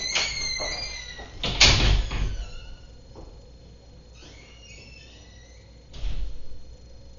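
Door sounds from someone at the door: a loud sharp knock or bang early on, then a quieter stretch and a second thud later, with light household noise between.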